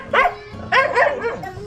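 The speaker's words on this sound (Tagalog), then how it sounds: "may aso" A dog at a house gate barks in three or four sharp, close bursts, loud and alone against quiet surroundings.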